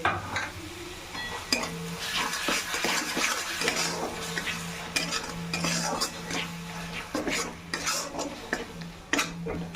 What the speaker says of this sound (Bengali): দিয়ে খুব ভালো করে কষিয়ে নেব